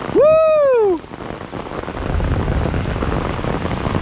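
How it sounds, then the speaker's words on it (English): After a loud rising-falling tonal whoop at the start, dense heavy rain hisses steadily and grows stronger. "So man, it's really coming down."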